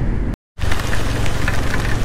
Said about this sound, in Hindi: तो वापस बहुत गंदा वाला बारिश चालू हो गया